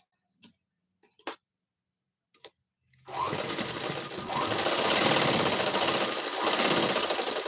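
A sewing machine stitches the shoulder seam of a princess-cut blouse, starting after a few scattered soft clicks and then running in one loud, steady, continuous burst close by.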